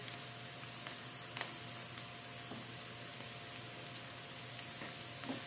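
Onion sizzling as it fries in a pan: a soft, steady hiss of frying with a few faint ticks and pops scattered through it, quiet and close, with no talking.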